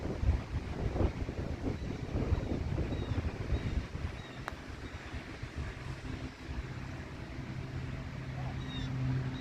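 Wind gusting across an open golf course, a steady low rumble buffeting the microphone throughout, with faint voices underneath.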